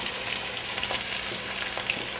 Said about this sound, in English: you need to fry it until the onion is brown